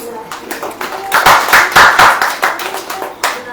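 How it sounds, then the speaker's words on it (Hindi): An audience claps hands at a Hindi-language religious gathering, a burst of applause swelling in the middle and trailing into scattered claps, mixed with a talking voice. "ताली बजाएं।"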